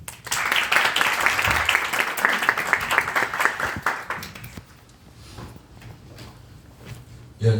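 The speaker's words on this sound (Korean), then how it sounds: "박수로 시작하겠습니다." Audience applause at a Korean seminar, a dense burst of clapping that swells for about four seconds, then thins to scattered claps and fades out.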